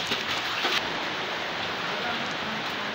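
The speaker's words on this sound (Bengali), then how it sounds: "বৃষ্টি, প্রচুর বৃষ্টি হচ্ছে" Heavy rain pours down in a dense, steady broadband roar during flooding at a home, continuous and close, with a brief brighter burst near the start.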